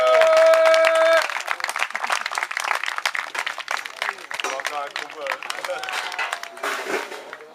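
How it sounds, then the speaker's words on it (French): An audience claps for the wrestlers at the CWF Chtimania IX wrestling show, busy applause that rises after a short opening tone and continues for several seconds with a voice speaking over it. "On peut applaudir les catcheurs qui ont donné de leur personne pour vous divertir"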